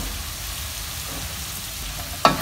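Pumpkin dropped into a hot pan of browned onion, a steady, even sizzle running throughout, then a sudden sharp hiss as the pumpkin hits the oil near the end.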